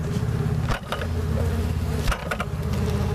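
Honey bees swarm inside a popup camper, their dense, continuous buzzing close and loud, broken by a couple of brief knocks.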